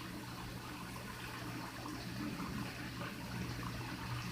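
A shower runs steadily for a pet goose, a continuous close hiss of spraying water with no pauses and no voices.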